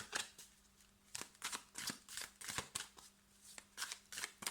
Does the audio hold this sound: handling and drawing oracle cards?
yes